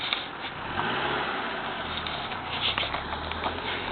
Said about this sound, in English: someone coming out of the drove in the car